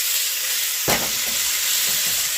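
Noodles for Thai Pad Kee Mao fry in a hot pan with tofu, a steady close sizzle and hiss with one sharp clatter of tossing partway through.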